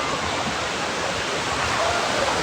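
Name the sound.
sea waves at the beach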